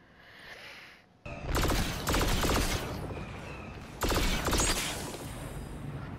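An A280 CFE blaster fires in the Star Wars Battlefront 2 video game, loud rapid bursts of shots in two long volleys separated by a brief lull, preceded by a quieter moment.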